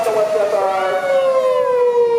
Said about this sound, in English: That's not a fire truck. That's a police car, and it's really loud.